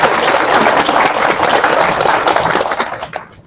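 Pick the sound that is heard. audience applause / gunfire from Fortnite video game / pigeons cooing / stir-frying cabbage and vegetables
audience applause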